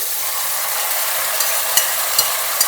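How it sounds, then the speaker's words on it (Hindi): Cauliflower frying in a pan with whole spices and panch phoron gives a steady, loud broadband sizzle, broken by a few faint clicks of a stirring spoon near the end. "इसको हमको अब इसमें फ्राई करना है कम से कम 4 से 5 मिनट तक"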